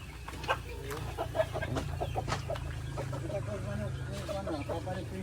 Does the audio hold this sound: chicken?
yes